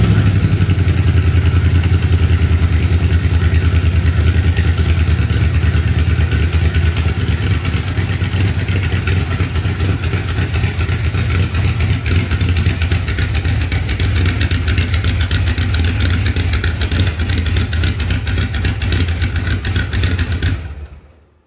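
A 1972 Corvette engine runs steadily at idle throughout, a loud, continuous mechanical hum with clattery texture, close by and alone, cutting off at the end.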